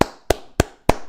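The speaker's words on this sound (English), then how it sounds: "That's the sound of my cheeks clapping." Four sharp, evenly spaced claps, loud and close, each a crisp single slap with a quick decay, with short silences between and no other sound.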